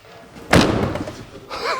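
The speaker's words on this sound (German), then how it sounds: "wir können ja mal aus Spaß bitte mal die Tür zumachen hier" The door of an e-bike motorhome slams shut hard in one loud, close thud that decays quickly, followed by a short burst of voice.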